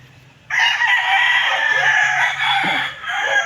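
One long, loud rooster crow rings out nearby for about three seconds from among a vendor's chickens, rising and wavering before tapering off, with no talk.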